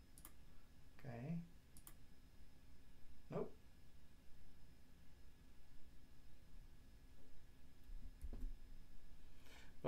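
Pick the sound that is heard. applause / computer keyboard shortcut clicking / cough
computer keyboard shortcut clicking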